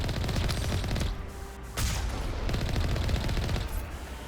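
Heat rounds firing in Mass Effect Legendary Edition on Insanity difficulty, a dense, loud burst of rapid gunfire that dips briefly and then resumes as steady sustained shooting.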